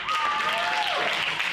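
A stand-up comedy audience at the Roxy Theatre breaks into loud, close applause mixed with cheering voices and a whistle-like tone, continuous throughout the short burst.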